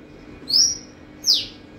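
Two sharp, bright bird calls ring out about a second apart over quiet background hum.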